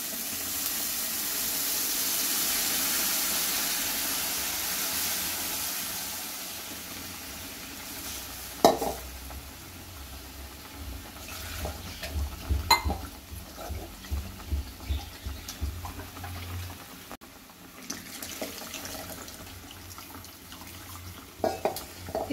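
Tamarind water poured into a simmering dried fish curry, followed by a run of stirring and sizzling with scraping, clattering spoon strokes in the second half, close and moderately loud.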